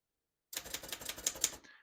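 Typing on a 1956 Underwood Universal portable typewriter: a quick run of crisp mechanical key strikes, close and alone, starting after a half-second of silence and ending with a faint trailing clack.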